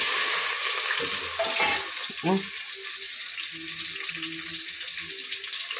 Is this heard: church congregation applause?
no